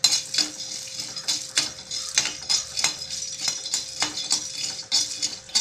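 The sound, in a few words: peeled peanuts being stirred in a hot pan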